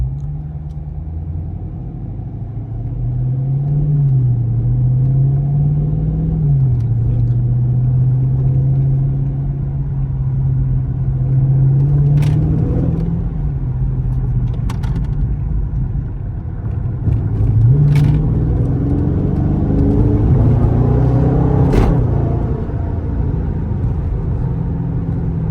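A Dodge Scat Pack engine rumbles steadily during a nighttime drive, its deep exhaust note rising and falling as the car accelerates and cruises, heard close and loud from inside the cabin.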